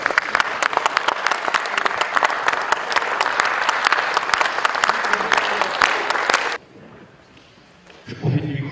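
Audience applause fills a hall after a presentation on the restoration of the Château de Villers-Cotterêts, loud and dense with many hands clapping for about six seconds, then breaking off abruptly into a quiet room before a brief stir.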